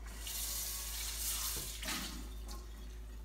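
Tap water runs steadily into a sink while rinsing a Stargazer cast iron skillet, a close, continuous splashing hiss with brief shifts as the pan moves under the stream.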